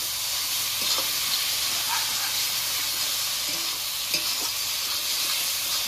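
Fried banana flower and potato with garam masala sizzle steadily in a pan while a spatula stirs them, its occasional scrapes and taps rising over the continuous frying hiss.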